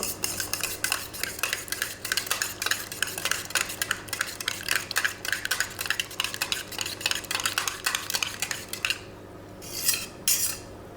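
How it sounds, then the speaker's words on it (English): A spoon stirs Sri Lankan hopper batter in a bowl with quick, steady scraping strokes that clink against the sides, close and continuous, then slows and pauses near the end. "Stir it well."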